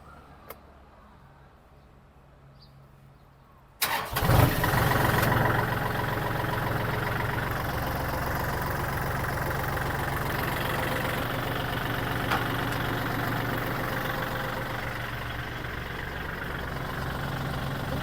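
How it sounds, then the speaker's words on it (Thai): A Kubota three-cylinder tractor engine starts after a few seconds of quiet, catching with a loud burst and then settling into a steady, chugging idle close by. "เป็นเครื่องยนต์ 3 สูบค่ะเดินหน้า 8 เกียร์ถอยหลัง 8 เกียร์นะคะ"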